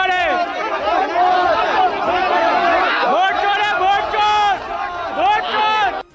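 A loud crowd at a polling booth in Siwan, Bihar, erupts in hooting and uproar, with many overlapping shouting voices forming a dense, continuous clamour.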